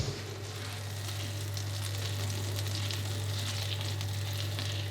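Butter melting in a pan gives a steady, close sizzle and fry hiss that holds at an even level throughout, with a low constant hum beneath and no talking.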